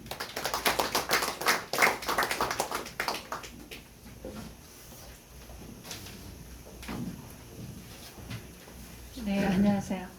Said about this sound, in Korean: 손뼉으로 맞이하겠습니다.